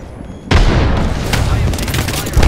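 A grenade goes off in a battle-royale shooter game, a sudden loud blast that hits hard and rolls on into sustained rumbling and crackling gunfire, with another heavy impact near the end.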